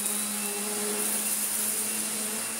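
A Vorwerk Kobold VK150 vacuum cleaner runs on carpet in automatic mode with a steady, close motor drone and high whine, holding constant and unbroken throughout.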